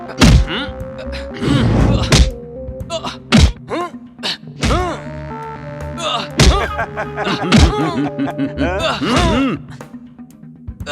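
Punches and blows land in a fight scene from a Hindi-dubbed action movie. Heavy thuds and whacks come in bursts, mixed with grunts, gasps and tonal score, all loud and close.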